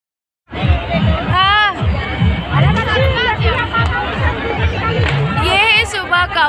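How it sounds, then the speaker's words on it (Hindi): A large crowd gathers for the Chhath Puja morning offering to the rising sun, filling the air with loud overlapping chatter, shouts and children's voices, with whistles and calls rising above the hubbub. "कितनी सारी भीड़ है"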